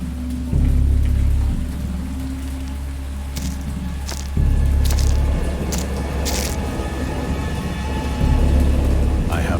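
Heavy rain pours steadily while deep rumbles of thunder roll in and fade in long waves, loud and close, with no talking, in the video game Dagon.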